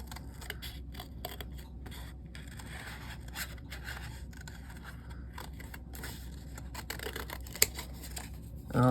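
Scissors snip through paper in a craft session, a run of short, quiet cuts and scrapes at steady pace, fairly close and alone with no talking.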